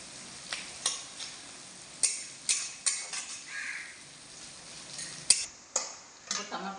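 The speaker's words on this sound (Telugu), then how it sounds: "బాగా రెడ్ కలర్ వచ్చేలాగా వేయించుకోవాలి" Spiced masala paste for Andhra-style fish curry frying in a pan, with a quiet steady sizzle broken by repeated sharp scrapes and taps of a spoon against the pan, close and moderately loud.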